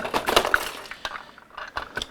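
Sharp plastic clicks and snaps as a LEGO light stanchion is pulled out, a cluster of crackling pops followed by a few scattered clicks, close by with no talking.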